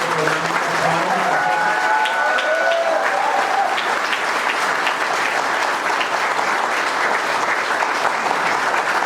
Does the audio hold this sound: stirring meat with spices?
no